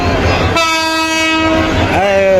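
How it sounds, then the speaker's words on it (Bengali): An approaching passenger train at Sreepur railway station, packed with people riding on the roof, sounds a long, loud horn blast, followed by a second shorter blast, over a low rumble of the train. "সে কিন্তু হুইসেল দিছে যে আমি চলে আসছি কাছাকাছি"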